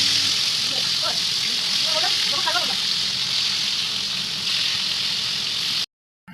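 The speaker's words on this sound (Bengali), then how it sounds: "তো এবার আমরা ওইদিকে মাছটাকে ভেজে নেব।" Pieces of katla fish frying in hot oil give a steady, close hiss that runs for about six seconds, with a few brief crackles near the start before the sound cuts off.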